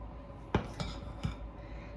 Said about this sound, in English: we're going to take 1/3 of our mixture and put it into another bowl